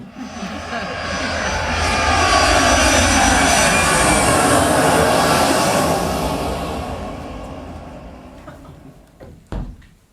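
An airplane's engine roar swells up, stays loud and steady through the middle, then fades away, followed by a brief knock near the end.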